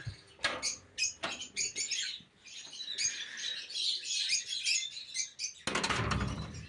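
Lovebirds in a breeding aviary flutter their wings in quick bursts and chirp in high, scattered tweets, close by, with a louder rush of flapping near the end and no speech.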